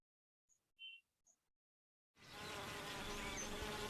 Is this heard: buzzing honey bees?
yes